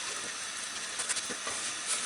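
Layered Bangladeshi paratha frying in oil on a pan, a continuous bright sizzling hiss with slight crackle, steady and close throughout.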